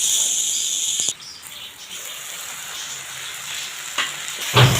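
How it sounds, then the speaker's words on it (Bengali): Jackfruit and meat curry sautéing in a covered pan, a steady soft frying hiss running throughout with a brief dip early on and a couple of louder crackles near the end. "আবারও ঢেকে ঢেকেই আমরা কষিয়ে নিব"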